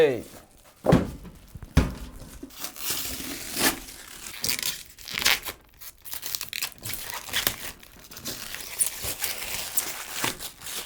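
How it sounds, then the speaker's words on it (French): A Mars Gaming MCX gaming PC case is unboxed: packaging crinkles, crumples and tears in uneven bursts, with a few dull thunks of cardboard and the case being handled, close to the microphone, amid intermittent voice. "Hop, on va tout de suite le déballer."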